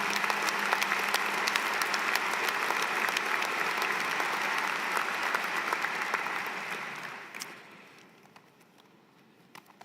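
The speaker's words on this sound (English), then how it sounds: "please, a big round of applause to this amazing, amazing staff and faculty" A commencement audience at an online graduate programs ceremony applauds staff and faculty with steady, dense clapping that carries for several seconds, then thins and fades to scattered claps.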